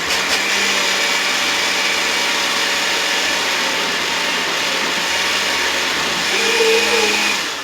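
An electric blender whirring steadily as it blends garlic sauce with lemon juice, a loud continuous motor drone close by that shifts pitch briefly near the end, with no talking.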